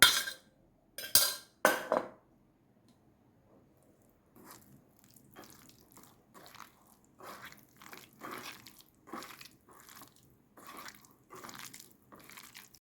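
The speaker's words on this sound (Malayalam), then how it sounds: "ഒഴിച്ച് വെച്ചിരുന്ന ആ കൂന്തൾ ഇതിലോട്ട് ഇടാം അത് നന്നായിട്ട് മിക്സ് ചെയ്യാം" Marinated squid tossed and mixed in a bowl for a squid roast: a few sharp clinks at the start, then a run of soft, wet squishing and slapping sounds repeating at a steady, quiet pace.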